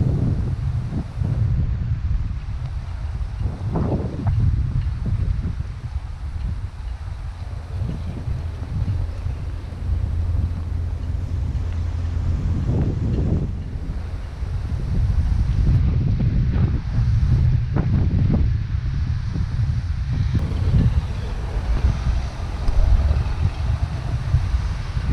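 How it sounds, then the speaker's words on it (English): Strong wind blows over rough open water on a very windy day in the Gulf Islands, a continuous buffeting roar battering the microphone, with surf and chop churning underneath throughout. "You can see the day is very windy, and that means the water's rough"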